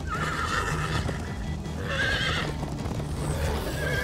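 Horses in the video game Minecraft Story Mode whinny loudly several times, the neighs rising and falling over a bed of hoof clip-clop and low rumbling background noise.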